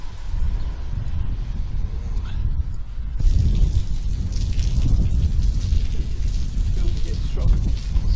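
Heavy rain pours steadily outdoors during a winter storm, a dense continuous hiss that swells louder partway through, with no voices heard.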